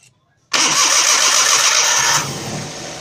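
Daihatsu Xenia 1000 engine cranking and catching after a starter motor repair, a sudden loud burst that settles within a couple of seconds into a steady, quieter idle.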